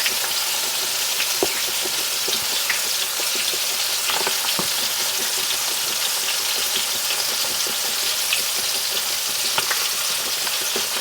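Red snapper fish frying in hot oil in a skillet gives a steady, loud sizzle throughout, with scattered crackles and pops on top and no voices.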